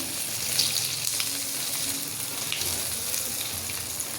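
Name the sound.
hot oil tempering sizzling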